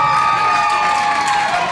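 A crowd at a singing competition cheers and applauds a guest, a brief burst of loud whoops and shouts with clapping.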